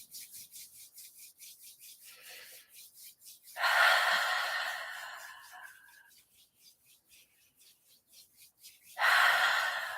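Deep, slow breathing with a soft rasp of palms rubbing together during a meditation, quiet rhythmic breaths giving way to two louder, longer rubbing surges near the start and end.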